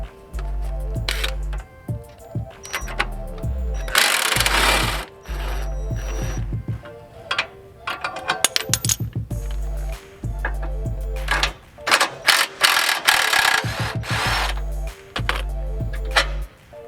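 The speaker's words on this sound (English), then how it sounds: "I just have to undo the rear lower control arm bolt" Ratchet loosening the rear lower control arm bolt on a Honda Element, rapid clicking bursts with metallic pawl ticks in repeated strokes and short pauses between them, close and loud, with no talk.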